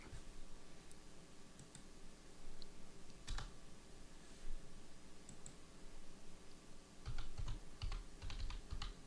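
Fingers tap on a computer keyboard in scattered quiet bursts of clicks, with a denser flurry of keystrokes toward the end over a low room hum.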